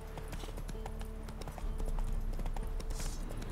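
Horse hooves clip-clop in steady rhythm in the video game The Witcher 3, over a low rumbling game ambience that swells slightly midway.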